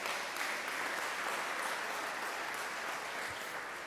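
A church congregation at a Spanish-language sermon applauds loudly, a dense, sustained wash of clapping that holds steady and close for the whole stretch with no speech over it.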